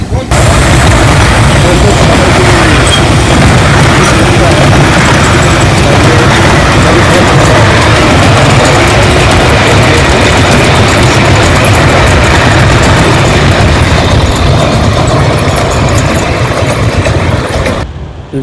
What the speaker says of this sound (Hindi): और ये स्टीम पर इंजन चलते हैं।